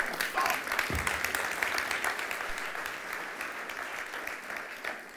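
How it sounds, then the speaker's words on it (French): A church congregation clapping during a sermon, a fairly dense wash of applause that holds steady and then gradually thins, with a voice faintly audible underneath. "vas-y, applaudis fort"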